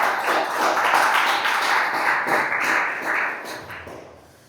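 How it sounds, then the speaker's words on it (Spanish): Church congregation applauding during a worship service, a dense sustained wash of clapping hands that fills the room, fairly loud throughout and fading slightly toward the end. "um forte aplauso ao Senhor."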